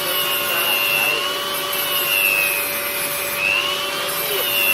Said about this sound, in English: So it's just holding my drill at an angle, and I'll just start shaving.